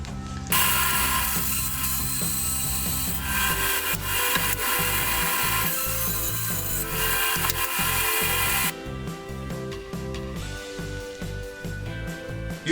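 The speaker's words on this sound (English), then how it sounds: "now I've just got to put a straight cut on this side, which I'm going to cheat a bit on bandsaw" A bandsaw makes a straight cut through pallet wood, a loud steady mechanical whine and blade rasp that runs continuously and then eases as the cut finishes.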